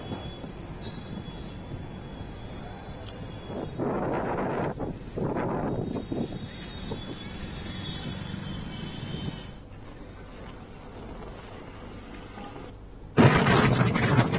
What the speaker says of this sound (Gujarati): રણમાં ભારે પવન ફૂંકાયો